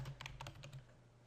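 A few quick keystrokes on a computer keyboard, a short burst of close, crisp clicks over a steady low hum.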